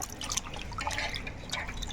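Meat pieces being washed by hand in water make close, irregular splashing and dripping sounds, with small wet slaps and trickles spread across two seconds.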